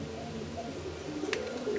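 Pigeons kept indoors give soft low cooing calls, a couple of rolling coos close by over a faint steady background.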